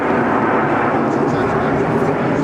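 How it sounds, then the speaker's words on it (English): An aerobatic jet display team at the 2011 Southport Airshow flies low overhead in formation. A loud, steady broadband engine roar fills the short stretch while a commentator talks over it. "Zane, the lowest aircraft that we see now, not only has to roll to match Red 1's angle of back"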